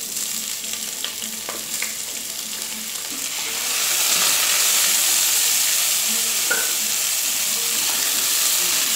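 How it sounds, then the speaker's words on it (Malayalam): Onions sautéing in melted ghee with whole spices for an egg biryani give a steady, close sizzle with occasional stirring clinks, growing louder and denser halfway through as the pan heats up. "ഇനി അതിലേക്ക് എടുത്ത് വെച്ചിട്ടുള്ള സവാള ചേർത്ത് വഴറ്റി കൊടുക്കുക."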